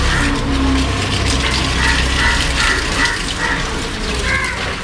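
Water gushes steadily from a broken garden pipe, a continuous close splashing flow with a few brief higher tones mixed in.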